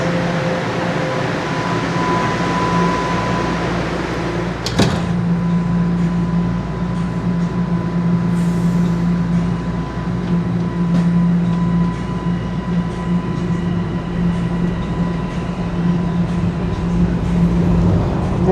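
Toronto subway train at a station: a loud, steady rumble and hum of the cars with tonal whine, a sharp clank near the start, and continuous mechanical noise throughout.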